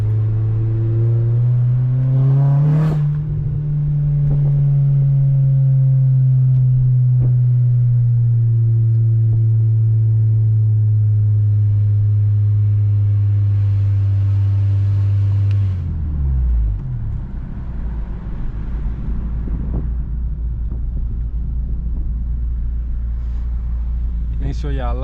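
An 8th-generation Honda Civic Si with VTEC drives along, its engine and exhaust climbing in pitch under acceleration and then holding a steady drone before a gear change drops it to a lower rumble, loud and continuous throughout.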